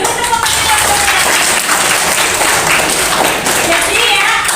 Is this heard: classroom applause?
yes